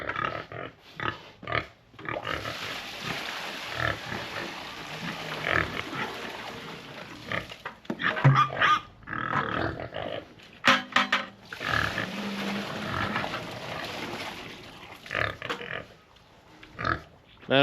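Pigs on a western South Dakota ranch grunt and squeal repeatedly at close range in irregular bursts, with some clattering and a voice speaking now and then among them.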